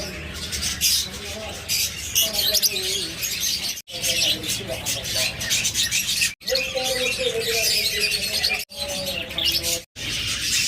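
Lovebirds and budgerigars chirp and squawk in a busy aviary chorus, with dense overlapping calls throughout and brief drops between bursts.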